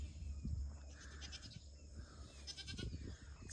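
Goats bleat on a farm on a quiet morning, several fairly faint, distant calls in short bursts over low outdoor rumble and light wind.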